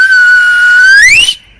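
Silbo Gomero whistled language practice, a single loud, close, sustained whistled note held level, then gliding upward before stopping abruptly, with no talking.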